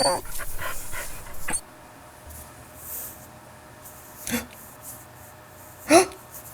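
Dog panting and snuffling while eating hot dog buns at a 4th of July barbecue, quick close breaths at first, then quieter sniffs and occasional sharp gasps, no talk.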